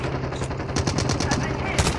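Rapid automatic gunfire in Call of Duty Mobile, loud bursts of sharp repeated shots in quick rhythm with a final heavier blast, close and dominant, with a voice briefly underneath.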